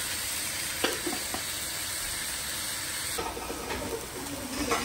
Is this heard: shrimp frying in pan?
yes